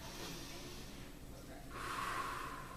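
Deep, steady breathing through the nose and mouth during a slow neck stretch, close and fairly quiet, with a broad breathy hiss that swells stronger in the final second as an exhale.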